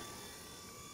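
A V912 remote control helicopter flying after two years in storage, a steady, even whirring drone of its rotor and motor with no breaks.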